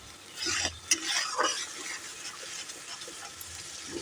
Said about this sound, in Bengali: এই মশলাগুলোকে এবার যাতে মশলা থেকে তেলগুলো ছেড়ে যায় মশলা থেকে নাড়তে হবে